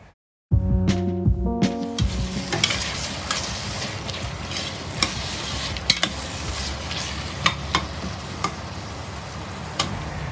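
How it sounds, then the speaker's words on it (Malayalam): Onions and curry leaves sautéing in a pan for mutton biryani, a steady close sizzle with scraping stir strokes and occasional sharp spoon clicks against the vessel, starting after a brief silence. "അപ്പോൾ ഇതിലേക്ക് കുറച്ച് കറി ലീവ്സ് കൂടെ ആഡ് ചെയ്തിട്ട് നമുക്ക് നന്നായിട്ടത് വഴറ്റിയെടുക്കാം."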